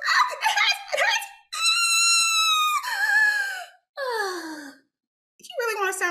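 A comedian on stage at a comedy club imitates a sex squeal with a voice, letting out high, drawn-out squealing wails and sighs in several separate bursts between brief silences.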